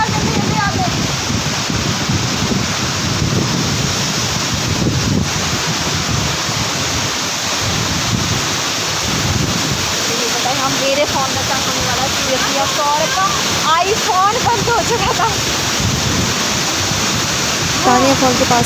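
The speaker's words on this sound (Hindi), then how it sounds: "फॉल का पानी यहाँ तक आ रहा है" A waterfall near Chakrata roars as a dense, constant wash of rushing water close by, with people talking over it.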